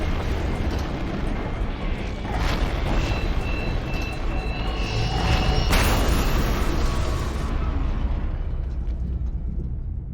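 A long-range weapon detonating in the shooter game FEAR 2, a sustained loud rumbling blast with crackling debris and mechanical whines layered over it, a sharp burst near the middle, then a gradual fade.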